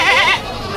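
A goat at a livestock market gives one loud, close, wavering bleat that breaks off abruptly, leaving quieter market background.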